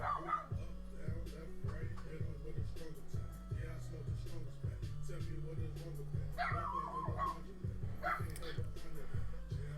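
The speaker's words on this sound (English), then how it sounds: "My dog's literally just found her voice." A pet dog yipping and whimpering in short bursts indoors, high excited calls over a person speaking steadily throughout.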